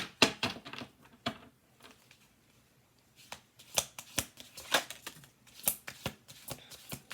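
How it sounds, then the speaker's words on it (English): Playing cards being riffle-shuffled up close, in two bursts of crisp, rapid fluttering clicks separated by a quiet pause in which the deck is squared up. "we're going to do 2 more shuffles"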